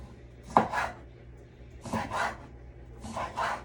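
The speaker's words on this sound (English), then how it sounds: "I'm cutting. I have a cutting board and a knife, and I use them a lot." Knife chopping on a cutting board in a home kitchen, three short clusters of quick double chops spaced about a second apart, close and fairly quiet with no talk.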